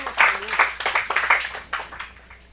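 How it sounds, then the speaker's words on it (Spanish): A church congregation claps in steady rhythm during a Spanish-language worship service, the beats close and clear before they fade out, with a faint voice at the start. "¿Por qué no le da un fuerte aplauso al Señor?"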